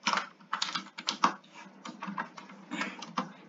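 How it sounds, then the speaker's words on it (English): Fingers tap out a short burst of words on a computer keyboard, a quick irregular patter of close keystrokes with brief pauses, heard alone without speech. "And I'm going to type in"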